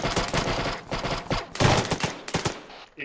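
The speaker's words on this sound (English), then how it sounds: "Where's that gunfire coming from?" Gunfire in the military simulation game ARMA 3, with rapid bursts of automatic weapon shots and scattered single cracks over about three seconds, loud and dense.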